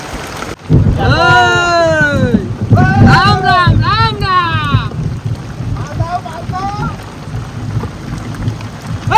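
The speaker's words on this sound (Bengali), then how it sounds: "বৃষ্টি ভারী বৃষ্টি হচ্ছে না?" Heavy rain and gusting wind batter a small fishing boat on the Matla river, a steady rough roar with wind buffeting the microphone, mostly under a man's loud repeated chanting and nervous talk.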